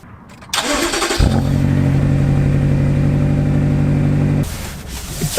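A BMW X6M engine starts with a brief crank, then settles into a loud, steady, deep drone for about three seconds before dropping back. No one speaks.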